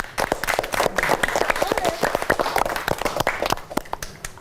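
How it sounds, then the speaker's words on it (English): A classroom of students breaks into applause, dense steady clapping from many hands mixed with some voices, continuing for several seconds at moderate loudness. "Give applause to everyone here."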